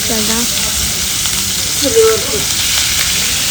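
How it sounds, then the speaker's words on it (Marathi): Steady, loud frying sizzle close up as creek fish fries on a griddle over a wood-fired clay stove, with faint distant voices and a brief clatter in the middle. "चुलीवरती मच्छी तळतो आम्ही"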